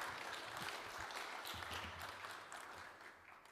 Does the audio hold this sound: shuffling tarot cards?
no